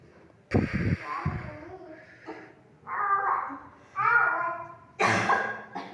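Several harsh coughs from a person in a sickly fit, coming in repeated bursts separated by short pauses, close and loud with raspy throaty breaths between them.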